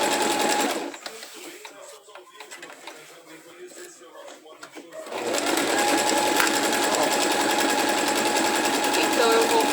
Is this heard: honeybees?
no